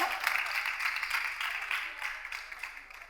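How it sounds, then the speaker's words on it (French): A studio audience at a dating show gives a dense, continuous wash of applause welcoming a bachelor contestant, moderately distant and fairly soft throughout. "on peut l'applaudir très fort"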